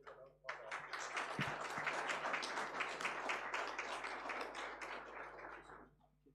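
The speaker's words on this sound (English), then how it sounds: "let's give a second round of applause to Isabel for that." Applause from a conference audience after a keynote presentation, a dense, sustained patter of many hands that starts suddenly and fades over about six seconds, heard from a distance in a hall.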